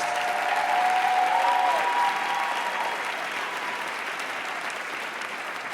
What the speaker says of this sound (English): Let's give all of our Site Teachers of the Year a big round of applause.